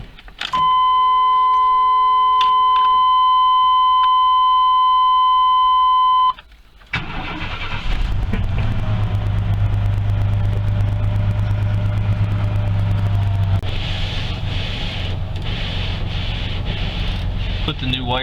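A 1995 Astro van sits in blizzard snow; electronic chimes ring first, then the engine cranks, catches and settles into a loud, steady idle with a low rumble, while a voice speaks briefly over it.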